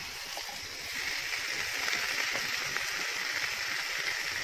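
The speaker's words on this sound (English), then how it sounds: "I will add a little bit of water." Water is poured into pinakbet, a Filipino vegetable stew, as it cooks, giving a steady broad hiss and splash that swells after the first second and holds fairly evenly.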